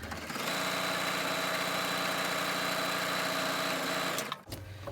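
A domestic sewing machine stitches fabric strings onto a fabric foundation for scrappy string quilt blocks, running as a steady, close whir for about four seconds before stopping abruptly.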